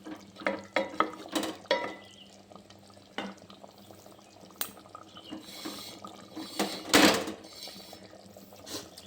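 Fish frying for a Bengali fish kalia curry, sizzling in a pan with scattered bursts of spatter and stirring clatter, close and fairly quiet, with no one speaking.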